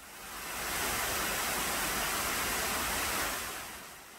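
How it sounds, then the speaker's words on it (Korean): Constant rushing water from a waterfall pours down loudly and evenly, a dense hiss that swells in and fades at the ends, with no voices. "물소리도 대화가 가능할 정도로 적당히 큰 편입니다."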